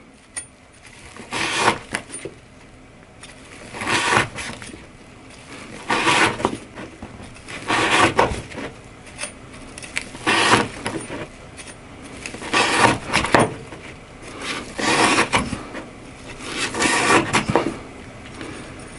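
An S60V steel knife edge slices through a scouring pad under increasing pressure, producing a series of scraping, crunching cuts in irregular bursts of a second or two, close and fairly loud, with quieter pauses between strokes.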